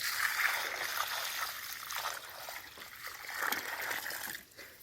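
Water trickles and splashes down onto the ground while a coconut garden in Konkan is watered, a quiet, uneven flow that swells and fades.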